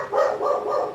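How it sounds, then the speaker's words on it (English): A dog barks loudly and close by, three or four barks in quick succession filling the second, with no one talking over it. "This dog is not going to shut the fuck up."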